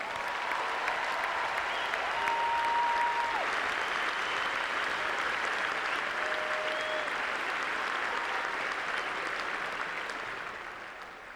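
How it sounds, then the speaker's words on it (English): A stadium crowd at Arthur Ashe Stadium applauds the champions after the 2001 US Open men's final, a broad continuous wash of clapping that swells and then slowly fades, distant and even. "how about a wonderful round of applause for these 2 great champions?"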